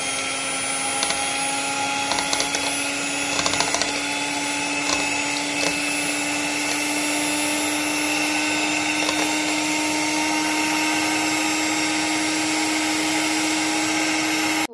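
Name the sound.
electric beater whisking three eggs for chocolate cake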